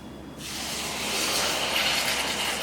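Water is poured into a pan holding 200 grams of sugar to make syrup for bread halwa: a sudden rushing hiss starts abruptly and swells into a steady, fairly soft sizzle, with no talking.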